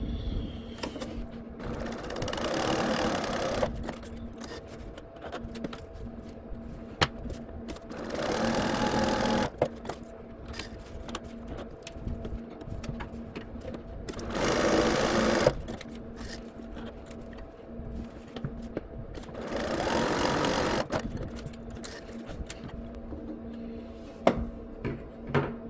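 A serger stitches decorative lines in green thread across a quilt block, running in about four steady mechanical bursts separated by quieter pauses, close and clear with no talk.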